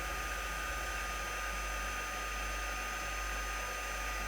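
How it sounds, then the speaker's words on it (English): An embossing heat gun melting embossing powder blows with a steady, loud, close-up whooshing roar and a low motor hum, continuous throughout with no talking. "Is that really bad, Matthew, when I talk over the embossing gun?"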